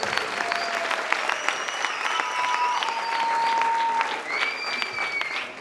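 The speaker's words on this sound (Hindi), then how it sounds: "जोरदार ताली के साथ" Loud, sustained applause rises from the audience at a Christian blessing meeting in Thane, with scattered sharp claps and high whistle-like tones running over the crowd noise.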